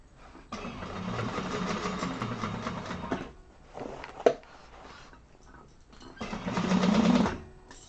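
A sewing machine stitches a Cassia satchel in three runs of rapid mechanical whirring, the first long and steady, the next brief, the last swelling louder before stopping, with a sharp click between bursts.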